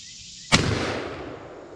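A single sharp blast from a vintage Savage Fox shotgun fired with the choke off, a loud crack followed by a short fading rumble after a quiet pause.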